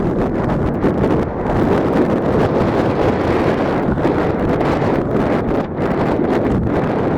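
Strong wind gusts roar steadily into the microphone beside a lake, a continuous loud buffeting rumble with rustling and water movement underneath and no talking.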